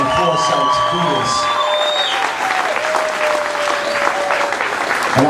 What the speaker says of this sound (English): everybody in this room, to give a big round of applause to them